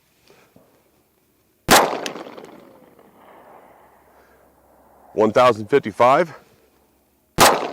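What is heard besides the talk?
9mm subsonic hollow point gunshots into ballistic gel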